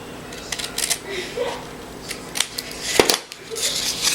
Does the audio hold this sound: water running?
no